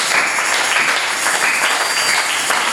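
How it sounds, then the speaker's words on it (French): A congregation at a church sermon claps loudly and continuously, a close, dense burst of applause with a slightly rhythmic pulse running under it. "Applaudissez pour le Seigneur."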